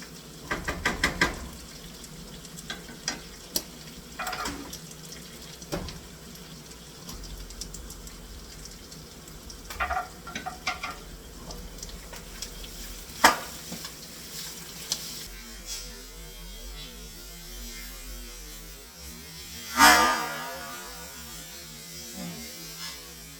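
Pork with garlic sauce stir-fries in a pan, a continuous low sizzle broken by scattered knocks and scrapes of the utensil against the pan, with a louder clatter near the end.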